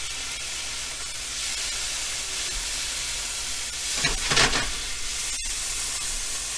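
Kimchi and its juice frying in a hot pan while being stirred: a steady close sizzle and hiss, with a brief louder scraping swell midway.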